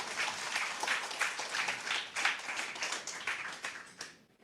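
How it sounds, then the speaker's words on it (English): Steady applause from a conference audience for a panel discussion, clapping continuously for a few seconds before fading out. "Let's give our panelists one more round of applause"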